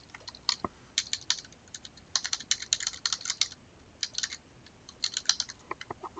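Rapid irregular bursts of keystrokes on a computer keyboard while an email address is entered on an order form; close and crisp, with short pauses between runs and no talking.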